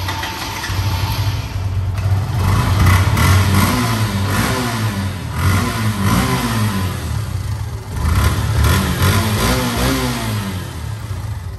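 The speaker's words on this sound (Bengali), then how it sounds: "আমি প্রয়োজনে বাইকটা স্টার্ট করি, আপনারা সাউন্ডটা শুনেন।" An old motorcycle engine starts and runs close by, loud and throaty, revving up and easing back repeatedly with no talking.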